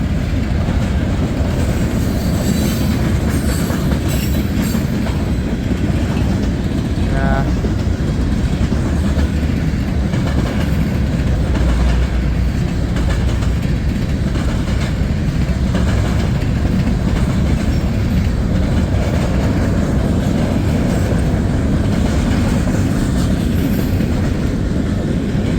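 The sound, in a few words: CSX mixed freight train picking up speed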